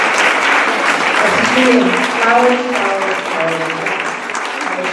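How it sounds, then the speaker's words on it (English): A live audience claps loudly and steadily at the first public performance of a disability program's movement group, with someone speaking over the applause and thanking people near the end. "just one more round of applause"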